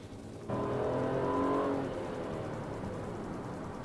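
A 2017 Chevrolet Impala Premier engine in Sport mode suddenly roars up into a strong rev, then settles into a steady, throaty drone, heard close and alone.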